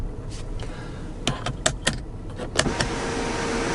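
Power sunroof on a 2018 Ford Explorer Sport closing automatically, a soft motor hum inside the cabin broken by several sharp clicks and latching clunks as the panel seals shut, with no talking.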